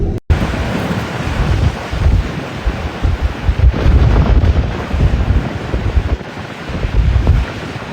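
Strong wind during a heavy snowstorm in Timmins, Ontario, roaring loud and continuous with gusty surges and blustery rumble buffeting the microphone across the whole stretch, with no voices.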